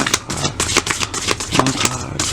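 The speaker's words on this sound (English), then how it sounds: "Now, let's shuffle one card," Rapid papery riffling and soft slaps of tarot cards being shuffled, a dense run of crisp bursts close to the listener.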